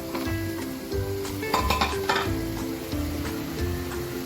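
Capsicum stir-fried with fried rice in a pan gives a steady sizzle broken by repeated scraping stirs and clinks of a utensil against metal, with a low hum underneath and no voices.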